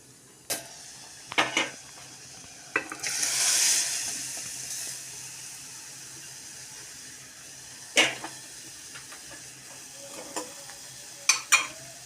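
Tempering (phodni) for dal palak in a pan, heard as a brief burst of sizzling and hiss followed by scattered clinks and stirring scrapes, fairly close and with no talking.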